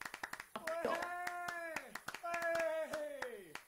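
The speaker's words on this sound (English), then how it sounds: "Yes, applause." Clapping in the Fable Anniversary video game comes as a string of sharp, close claps that keep going under excited voices cheering and talking.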